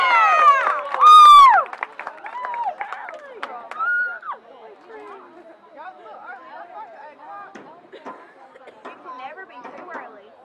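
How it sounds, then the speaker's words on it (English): A crowd at a Knox Central senior night football event cheers for a senior player, with loud whistles and shouts at first, then settling into steady chatter and scattered cheers with voices mixed throughout. "give a big round of applause for Knox Central senior football player"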